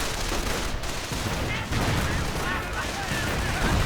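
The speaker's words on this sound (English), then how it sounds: "Incendiary grenades lobbed one more time." Dense battlefield gunfire and fusillades crackle continuously in a WWII strategy game as incendiary grenades are lobbed, a loud, steady wall of shots and bursts with no pause across the moment.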